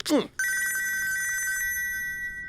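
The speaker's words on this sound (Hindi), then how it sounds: "अबे तेरा फोन बज रहा है" A telephone bell rings in a steady, continuous trill after a short burst of voice at the start, close and fairly loud, with no pause through the clip.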